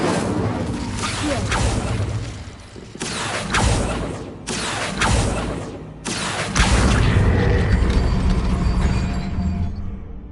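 A fire spell cast in the Hogwarts Legacy video game erupts in several loud whooshing bursts of roaring flame and crashing impacts, repeating in rapid succession with a heavy sustained rumble at the end.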